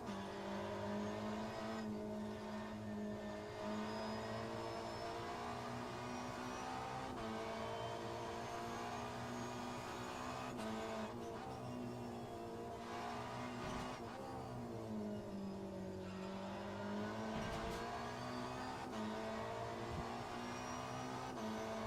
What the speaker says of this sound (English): Beautiful sound of the Toyota Supra as he brakes hard into the hairpin.